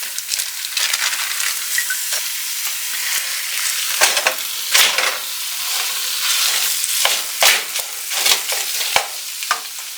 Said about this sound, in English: now I'm going to go ahead and add in our ground beef